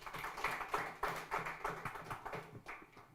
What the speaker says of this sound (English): a round of applause for Jonathan for steering this discussion so well, and another round of applause to the panelists